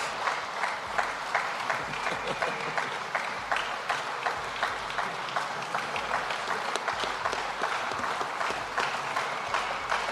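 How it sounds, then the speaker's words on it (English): Steady crowd applause in an arena or studio setting rolls on for ten seconds, moderately loud with individual claps standing out in a continuous wash. "It was just applause."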